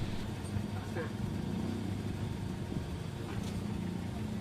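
Toyota Revo pickup engine running at a steady idle after a brake repair, a low even diesel rumble with faint mechanical clatter, heard up close under nearby talking.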